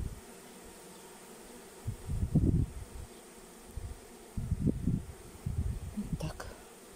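A swarm of honey bees hums softly and continuously at an apiary, with louder buzzing bursts coming and going as bees fly close by.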